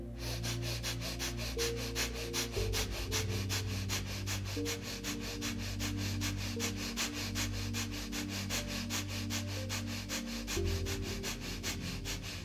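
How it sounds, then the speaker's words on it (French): Breath of fire yoga breathing, rapid rhythmic nasal exhalations repeating evenly for several seconds over soft background music, close and fairly quiet. "on va faire la respiration du feu."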